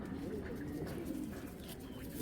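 A racer pigeon from 2024 BRPL stock coos in low, throaty rolls, close and continuous over a short stretch, with a faint voice in the background.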